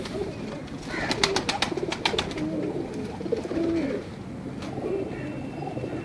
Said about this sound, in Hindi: ये जी एक और शानदार कबूतर है तमाम दोस्तों की स्क्रीन पर।